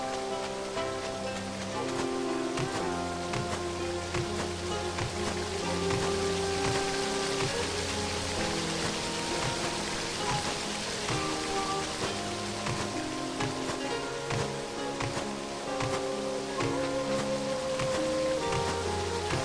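Rain falling in Sakuna: Of Rice and Ruin, a steady wash of drops that runs under a continuous bed of game music and tonal effects for the whole stretch, with no voices.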